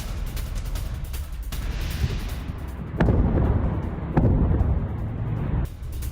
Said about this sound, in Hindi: बड़े पैमाने पर हवाई हमले और भीषण विस्फोट से मची तबाही